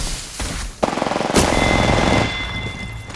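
Automatic weapons fire in Apex Legends, a fast rattling burst of gunshots after a couple of single shots, loud and close, with the firing carrying over a background hum and fading near the end.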